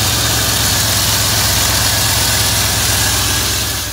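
A 1976 Jensen Interceptor Mark III convertible sits idling, its engine giving a steady, close, loud rumble with an even throb and no change in pace throughout.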